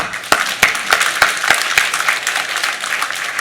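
Applause from a church congregation during a Sunday sermon, with a few sharp individual claps standing out over a softer spread of clapping that fades toward the end.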